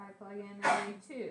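One sharp sneeze bursts out in a classroom in the middle of a teacher's maths explanation, close and loud, with talk on either side of it.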